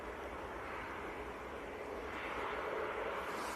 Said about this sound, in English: That is EasyJet from Innsbruck.